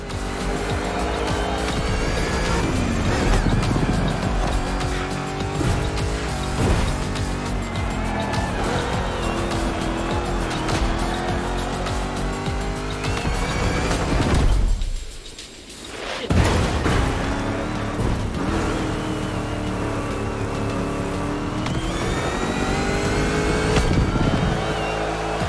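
A Mustang GT racing in a video game, with a loud, continuous engine roar that rises and falls through gear changes, repeated tire squeals, and a brief drop in sound partway through before the engine returns; a voice talks over it.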